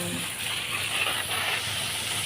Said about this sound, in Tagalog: nag-i-spray ako sa harap